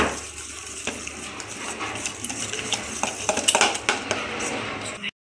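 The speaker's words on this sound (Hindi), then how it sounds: "फिर हमें चाहिए विस्कर और अब इसे अच्छे से मिक्स कर लेंगे" A whisk beats milk powder into a paste in a bowl, giving a quick, busy metallic clinking and scraping that grows denser and louder toward the end before stopping abruptly.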